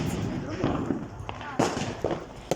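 New Year firecrackers bursting outdoors, several sharp cracks at irregular intervals over a continuous crackling background, fairly distant.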